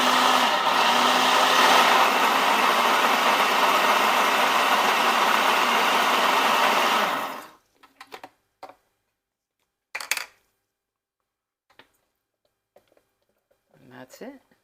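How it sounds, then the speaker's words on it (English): A blender on its highest setting whirs loudly and steadily for about seven seconds while blending fresh basil pesto with oil, then cuts off, leaving a few faint clicks and knocks. "My blender is going to get a little loud because I have to put it on the highest for some reason."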